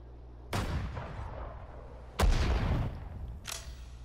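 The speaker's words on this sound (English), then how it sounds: "Artillery, fire!" Artillery guns fire in the World War II strategy game Sudden Strike 4 during the Iwo Jima invasion: three loud, booming shots spaced a second or more apart, each followed by a rumbling decay.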